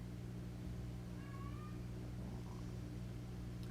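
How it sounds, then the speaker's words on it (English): A cat gives a brief, faint meow over a steady low hum, with nothing else standing out in the room. "She meows, trying to get him to play with her."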